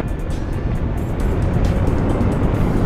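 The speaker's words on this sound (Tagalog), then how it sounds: "Once na tin-throttle up mo, talagang ano, hahatak siya." A KYMCO Xciting 400 scooter pulls hard under throttle, its engine a loud, steady roar with heavy wind rush that builds slightly over a few seconds, heard from on board.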